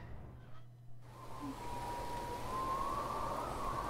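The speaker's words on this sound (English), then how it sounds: "In the valley, the storm rages. With all the howling wind and pounding rain" Storm in a video game valley with wind howling in a rising, wavering tone over a steady wash of rain, a sudden cut in the first second before the noise swells and holds.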